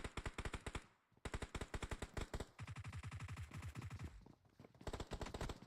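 Rapid automatic gunfire from a competitive video game match in a league showdown, loud bursts of repeated shots in quick rhythm with brief pauses between volleys, no voices.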